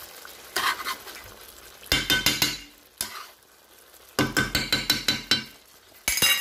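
Mustard and crème fraîche sauce in a pan, stirred in repeated bursts of scraping and clinking over a soft sizzle, with quieter pauses between the stirring rounds.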